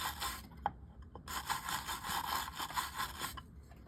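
A small brush scrubs the pinion gear of an 1893 Pflueger Akron fishing reel clean in quick, gritty back-and-forth strokes. A short burst comes first, then a brief pause, then a longer run of close, fairly quiet scrubbing.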